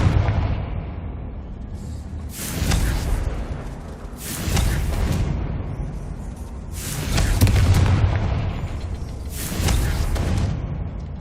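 Confringo fire spell blasts in Hogwarts Legacy, four loud booming bursts a couple of seconds apart over a low rumbling game backdrop, with no talk.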